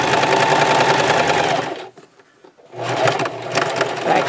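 Sewing machine stitching a scrub cap with ponytail, a loud close rapid whirring run that stops for under a second and then resumes at the same steady pace.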